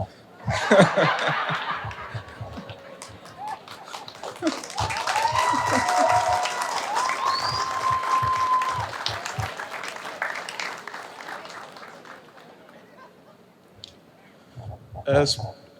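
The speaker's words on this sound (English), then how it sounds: "Speaking about clapping" Audience applause at a police cadet graduation ceremony, a steady wash of clapping lasting most of the stretch and then fading, with some laughter and voices mixed in.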